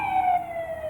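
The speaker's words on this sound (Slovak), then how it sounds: "To je sanitka." An ambulance siren wails with a steady, slowly falling tone, fairly loud and alone, with faint road rumble beneath.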